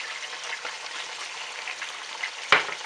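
Vegetables and prawns for pinakbet fry in a pan with a steady close sizzle. Near the end a single sharp clack of a utensil against the pan cuts through.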